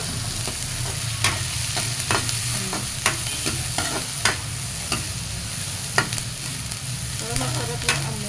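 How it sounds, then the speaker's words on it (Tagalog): Bay leaves and peppercorns sautéing in hot oil for chicken adobo, a continuous bright sizzle with regular spatula scrapes and taps against the pan, close and steady, no speech. "Gusto ko kasi yan, ginigisa talaga siya."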